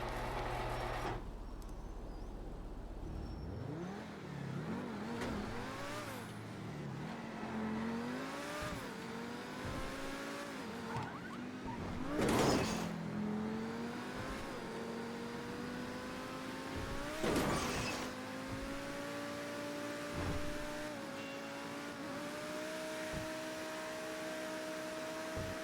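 A Truffade T20 supercar in GTA story mode revs and accelerates through gears, the engine whine climbing and dropping repeatedly, with a couple of loud roaring bursts mid-run; no talking.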